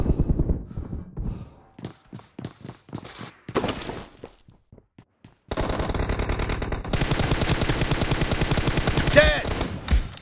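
Rapid bursts of M416 assault rifle fire in the BGMI battle royale game, with short separated volleys early on, then long sustained automatic fire that is loud and dense, close to the listener.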